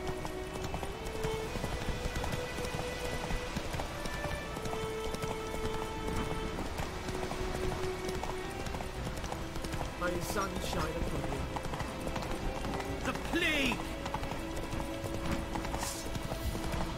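Horse hooves clip-clop in a steady trotting rhythm over ambient game music in The Witcher 3: Wild Hunt, with occasional voices and a short whinny.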